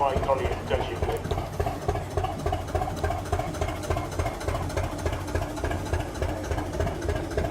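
The 15 horsepower Bolinder engine of a historic 1943 narrowboat at a boat rally runs in a steady, low, throbbing chug, close and continuous.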